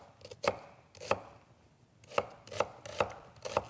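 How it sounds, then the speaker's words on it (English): A knife chops an onion on a flat surface in slow, evenly spaced thuds. Each crisp, close strike rings out sharply, with brief gaps of quiet between the cuts and no voices. "cut your onion into smaller pieces"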